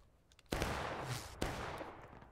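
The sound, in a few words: musket volley fire at a Civil War reenactment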